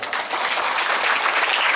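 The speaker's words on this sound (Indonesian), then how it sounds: "Tepuk tangan untuk santri." An audience applauds a santri at a large Islamic religious gathering in Kalibaru, a dense, steady clapping from a crowd that fills the whole short stretch.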